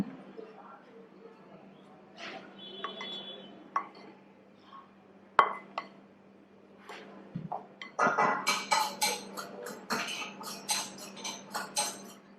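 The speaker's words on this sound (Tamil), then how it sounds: "சூடா இருக்கிறதுனால கரண்டி வச்சு மிக்ஸ் பண்ணணும்." A metal spoon stirs a hot, thick laddu mixture flavoured with cardamom powder in a vessel, giving irregular scraping and clinking strokes that grow busier and louder toward the end, with a low steady hum underneath.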